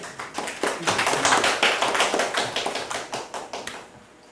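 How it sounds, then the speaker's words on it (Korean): A hall audience at a regional history and culture academic conference breaks into dense, sustained applause that welcomes a presenter, with many overlapping claps holding steady before thinning out near the end. "박수로 청해 듣겠습니다."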